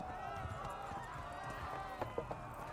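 Hooves pound in a fast running rhythm as a horse gallops in the video game Kingdom Come: Deliverance, with game music and a voice over it and a few sharper thuds near the end.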